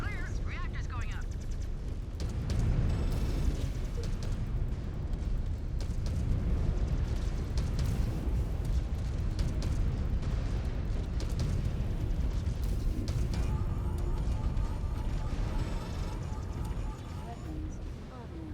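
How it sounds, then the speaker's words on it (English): A mech's fusion reactor detonates in MechWarrior 5: Clans, a loud sustained rumbling blast with heavy low-end booming and crackling debris continuing throughout, while voices talk over the chaos. "Reactor's going up."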